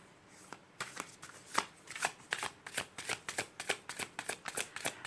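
A deck of tarot cards is shuffled close by in a quick, rhythmic run of crisp riffling flicks, steady and moderately loud, with no voices.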